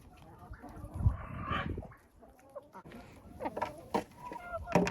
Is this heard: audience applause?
no